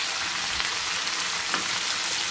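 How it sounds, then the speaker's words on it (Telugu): Bitter gourd pieces and onions frying in hot oil in a pan, a steady dense sizzle throughout with faint stirring clinks, close and loud, no talking. "ఇప్పుడు కాకరకాయ ముక్కల్ని కాసేపు బాగా వేయించుకుందాము"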